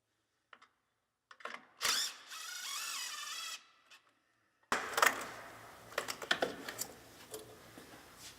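A ratchet and hand tools work on a Cummins ISX15 truck intake manifold, taking off the charge air cooler piping: a sustained whirring burst, then a series of clicks, taps and scrapes close by, with no talking.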